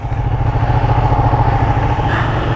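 A 2017 Ducati Panigale 1299 sportbike at a steady cruise, the engine droning loud and close with the throb of a big twin and continuous wind rush, and no voices over it.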